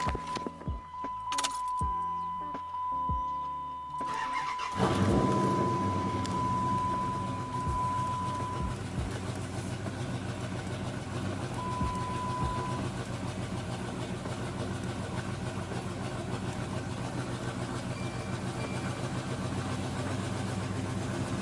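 A car engine cranks back to life and settles into a steady idle while the power steering system is bled of air, running low and continuous after the start.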